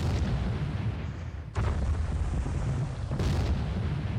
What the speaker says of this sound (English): we've got a naval bombardment